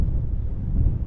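Steady wind buffeting a microphone on a hilltop at Mellieħa, Malta, a continuous low rumbling roar with no pauses over about a second.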